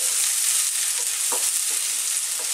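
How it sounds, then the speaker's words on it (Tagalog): Garlic and ginger sautéing in hot oil in a pan, a steady, loud, close sizzle that runs the whole time, with a few soft stirring taps underneath. "Ang bawang. Sunod na rin natin yung ating luya. Gisahin lang natin."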